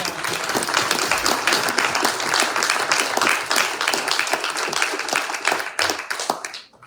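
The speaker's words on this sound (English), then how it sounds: "I think they deserve a big round of applause." An audience at the Mount Zion Black Cultural Center annual meeting in Athens, Ohio breaks into loud, sustained applause, steady dense clapping that fades out sharply at the end.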